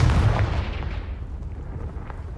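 A deep booming blast from the Confringo fire spell in Hogwarts Legacy hits loud at the start, then rumbles and fades over about two seconds.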